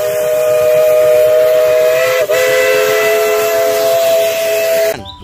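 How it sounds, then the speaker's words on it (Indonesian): A toy steam locomotive whistle sounds one long, loud, steady blast that wavers briefly midway and then stops abruptly. "ada lokomotif kereta api uap"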